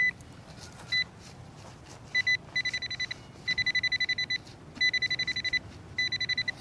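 A Nokta Legend metal detector in a park sends out repeated high electronic beeps in quick bursts, loud and steady, pausing briefly between groups, signaling a target near the surface.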